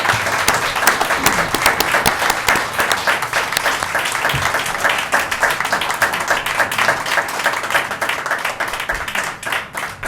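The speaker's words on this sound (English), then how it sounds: "No applause or boos in the audience." Audience applause at a city council meeting, loud sustained clapping from a crowd filling the whole stretch, close and dense with no talk over it.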